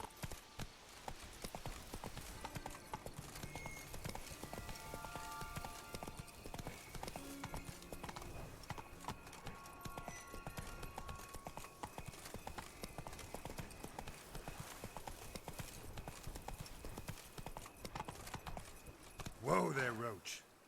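Roach, a horse in The Witcher 3, gallops steadily in a rhythmic clip-clop of hooves over game music, ending in a brief louder whinny or flourish near the end.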